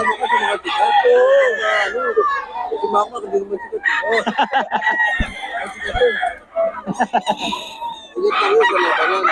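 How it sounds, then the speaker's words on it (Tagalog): Roosters crow repeatedly amid clucking chickens, loud and close, overlapping one another in a busy coop chorus. "Ito mga manok ni Boss Perry."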